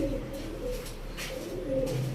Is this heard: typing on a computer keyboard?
no